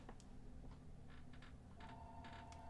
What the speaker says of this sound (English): Can you guys hear that phone going off?